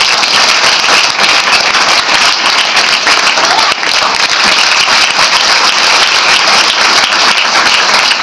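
Loud, dense applause from an audience at a Savitribai Phule Jayanti and Women's Liberation Day program, continuous and unbroken throughout.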